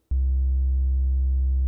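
Steady synthesized sine tone from the Serum soft synth, an analog-style oscillator with added harmonics and drive, held at constant loudness for over a second and a half after a sharp onset.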